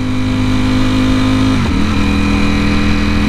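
A Ducati V4S motorcycle ridden along a winding highway, its engine holding a steady loud drone, briefly dipping as it shifts or eases off, then pulling again, with no voices.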